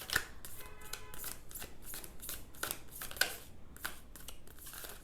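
A deck of tarot cards is shuffled by hand in quick riffles and crisp flicks, a rapid run of close, papery snaps spaced irregularly over several seconds with no talk.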